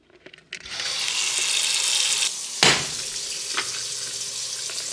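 Kitchen sink tap switched on, water rushing steadily into the basin with a hissing splash, a brief clunk partway through and a slight change in flow afterward, no talking.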